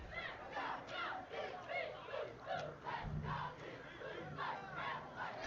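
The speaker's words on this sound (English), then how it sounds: "It's great to hear cheerleaders cheering. I hear the band." Crowd noise from the stands at the Albany State Golden Rams spring football game, with cheerleaders chanting and the band playing, a steady mid-distance roar of voices that swells and rises in rhythmic bursts.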